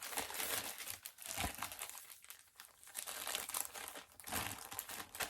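Packing tape ripped and peeled off a comic book package, a steady run of loud, close crinkling and tearing bursts lasting several seconds with no talk.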